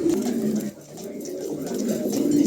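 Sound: pair of pigeons cooing

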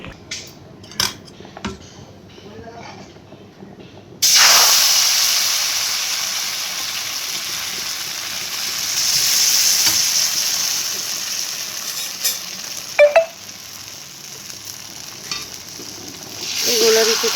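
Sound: roti being cooked in a pan, sizzling

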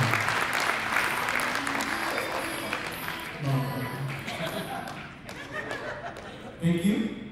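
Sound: audience applause

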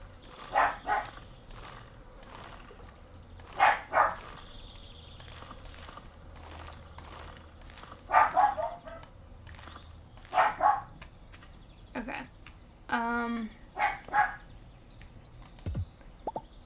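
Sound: pet dog barking indoors

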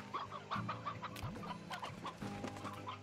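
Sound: rooster clucking in the video game Slime Rancher

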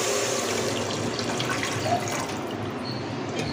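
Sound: water poured into pot for coconut rice

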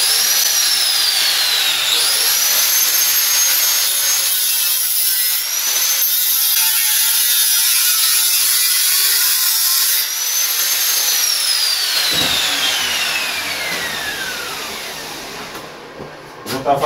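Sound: cutting metal wheel rim for a scrap-built stove

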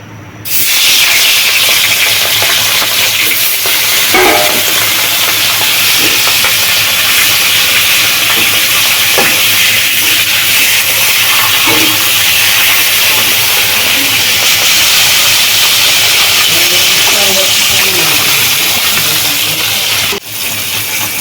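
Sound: fish frying in oil

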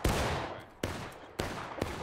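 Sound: gunfire from firing line at training event

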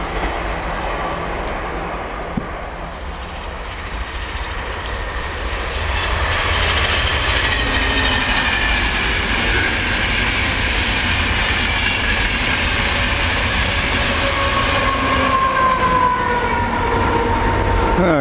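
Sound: Class 158 train passing Werrington Junction

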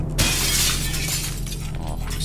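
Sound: glass windows being broken in Project Zomboid video game

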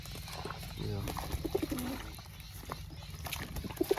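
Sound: pigeons cooing while bathing in falling water

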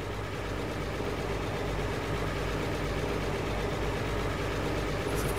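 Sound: tractor engine with fertilizer spreader, from video game Farming Simulator 22

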